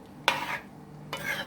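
Two brief scraping strokes of a spoon through gravy in a pot, close and fairly quiet, with a soft hum underneath and no talking.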